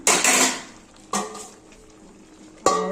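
Green mango pieces are stirred into a pot of half-cooked stems, giving three separate bursts of metal spoon scraping and clattering against the pot, with quieter simmering between them.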